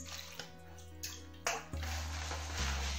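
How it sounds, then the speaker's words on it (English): Water is poured into a bowl of beans, a close continuous splashing stream that swells louder partway through, with a few knocks and rustles. "I'll put a little water in it."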